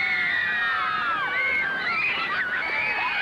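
A Beatlemania crowd in Adelaide screams hysterically for the Beatles, a dense wall of high-pitched shrieking and cheering from many fans with no letup.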